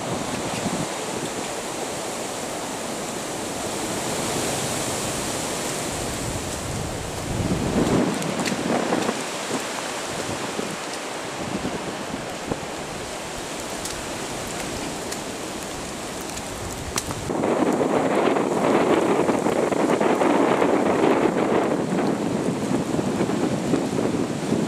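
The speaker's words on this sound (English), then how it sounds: "So windy." Strong storm wind roars steadily at Wairere Falls in the Kaimai Range, with rain and rushing noise swelling into louder, fuller gusts toward the end.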